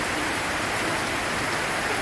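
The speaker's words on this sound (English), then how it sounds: "So it's about 6:30 right now, and it's raining." Steady, dense rain pours down in a jungle town in Peru, a constant even hiss with no voices.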